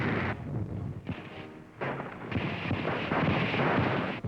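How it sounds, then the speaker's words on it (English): Tanks and artillery fire at the Gabes Gap during the 1943 North African campaign, recorded for a wartime newsreel: repeated heavy booms blur into a continuous, loud rumbling barrage. "Tanks and artillery concentrate on the Gabas Gap."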